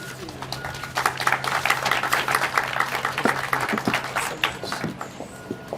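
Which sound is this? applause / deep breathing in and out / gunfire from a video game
applause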